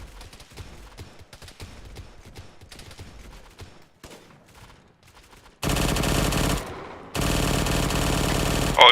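A small turret fires in a military shooter game. Quiet clattering gives way to two long, loud bursts of rapid automatic gunfire, separated by a brief pause, close and dominant with no talk.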